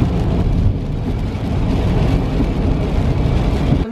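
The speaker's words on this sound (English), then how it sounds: "It's raining outside." Rain falling outdoors during a storm, a loud, steady low rushing wash with no break and no voices.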